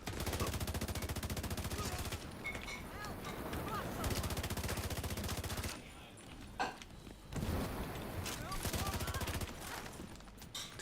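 Rapid machine-gun fire from enemy LMG gunners in the shooter game Division 2, dense sustained bursts with brief gaps and impacts, loud and continuous through most of the stretch.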